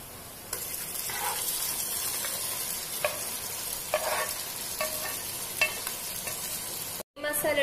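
Prawn masala being stirred into frying onions, a steady sizzle with repeated utensil scrapes and taps, briefly cutting out near the end before the sizzle resumes, with no one talking.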